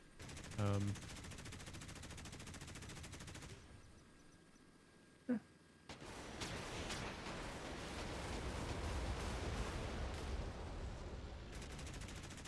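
Heavy booming warship cannon fire from a Modern Warships game battle, a rapid burst early on then sustained rumbling blasts and scattered sharp shots, loud and continuous.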